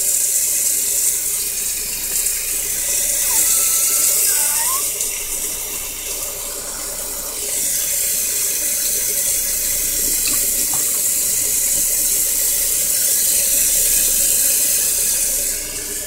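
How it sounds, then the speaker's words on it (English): Water from a tap pours steadily into a sink as it fills, a loud, continuous close splashing hiss lasting throughout with no talking. "let the water drain, fill the sink up again"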